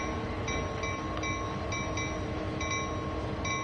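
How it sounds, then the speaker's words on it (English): Steady rail rumble of a locomotive and turntable in Train Sim World 2, with repeating high metallic tones and squeals pulsing over a constant low mechanical drone, loud and close with no talk. "let's slam the locomotive with the turntable"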